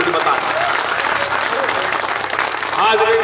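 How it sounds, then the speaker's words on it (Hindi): Sustained, loud audience applause at a mushaira poetry gathering in Darbhanga, Bihar: a dense, steady wash of clapping from a large crowd that holds for the whole stretch with little change. "2000 ताली बजा के मुझे बता।"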